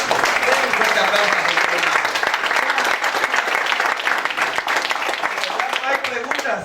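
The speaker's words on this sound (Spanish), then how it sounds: "Bueno, ahora, den un fuerte aplauso." A church congregation gives loud, sustained applause through a Spanish-language service on repentance and conversion, dense clapping continuing steadily from start to finish with voices mixed in.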